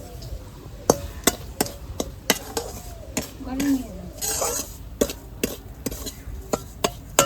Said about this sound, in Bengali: কড়াইতে এখন অল্প একটু ঘি দিয়ে দিচ্ছি। এখন এই সুজিটা দিয়ে একটু ভেজে নেব।